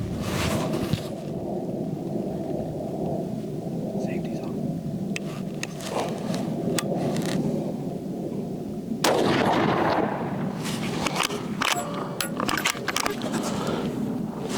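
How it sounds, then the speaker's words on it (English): Hunting rifle shots at long-range targets set at 200, 300 and 700 yards ring out as several sharp, loud cracks spaced seconds apart over an outdoor background, with someone talking quietly between shots. "we're just going to take some shots at the 200, 300, and then I'm going to push out the last round at the 700-yard mark"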